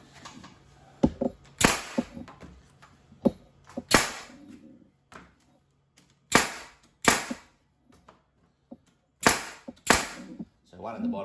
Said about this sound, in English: Use a air nailer. It's got 25mm brads,